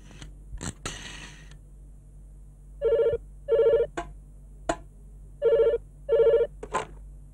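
An old-style telephone bell rings in a Telugu film scene, two pairs of double rings with a short pause between them, clear and close, with brief knocks before it and no talk.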